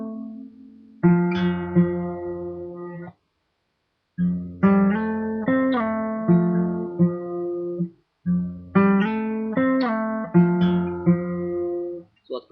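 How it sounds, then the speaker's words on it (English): Acoustic guitar playing short filler notes after slides, three separate phrases of plucked notes with pauses between, clear and up close. "you get those little filler notes after the slides"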